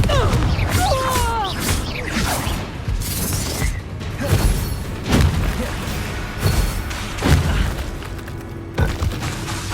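Confringo fire-blast spells in Hogwarts Legacy go off as a string of heavy booms and crashing impacts, spaced a second or two apart, amid combat noise and brief vocal sounds.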